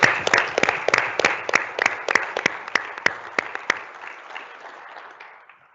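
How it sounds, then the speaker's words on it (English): Audience applause at an Army town hall for a sergeant from Letterkenny Army Depot: a dense, fairly loud patter of many hands with sharper individual claps standing out, gradually thinning and fading toward the end. "So let's give him a round of applause"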